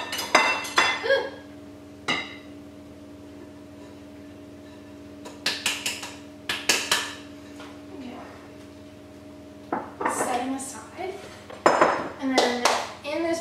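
Dishes and bowls clinking while ingredients are moved between them during snickerdoodle baking, several short bursts of clattering and scraping with quiet pauses between, close by in a kitchen with a faint steady hum.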